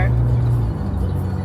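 A car's engine and road noise rumble steadily from inside the cabin, a low dull drone that fills the short moment.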